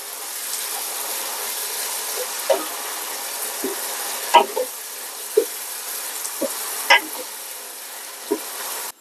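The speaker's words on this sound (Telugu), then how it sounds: "ఒకసారి కలుపుకుందాం." Ginger-garlic paste frying with onions in a pan, stirred with a spoon: a steady sizzle under intermittent clinks and scrapes of the utensil against the pan, with a voice speaking over it.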